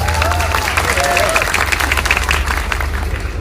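Mosque audience clapping during a humorous sermon at Masjid Agung Kendal, a broad steady wash of applause with crowd murmur throughout, fairly loud and continuous.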